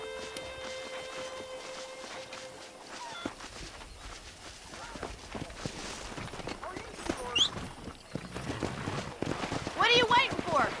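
Horse hooves clip-clop and thud at a running pace in the video game Red Dead Redemption, growing louder toward the end, with whinnies and a voice speaking over the action.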